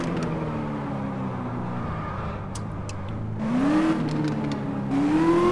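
A Nissan GTR in Car Parking Multiplayer accelerating with a steady engine drone that rises in pitch through two gear changes, the revs climbing near and loud.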